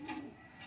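A racing pigeon coos softly in a short, faint low murmur, with no talk over it.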